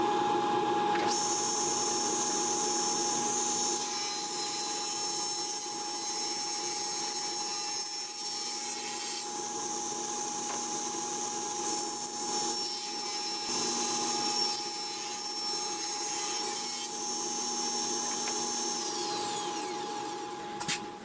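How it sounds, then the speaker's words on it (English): A table saw runs steadily with a high whine, taking a chamfered edge off the perimeter of a wooden stool seat; the continuous cutting drone holds for about twenty seconds and winds down at the end. "I'm just going to run this through, and it'll just take a nice chamfered edge off"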